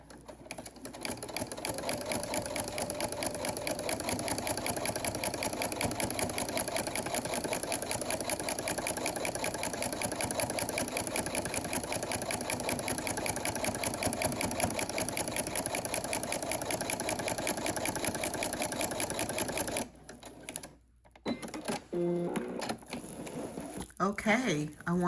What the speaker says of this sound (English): And now we're gonna go ahead and stitch down.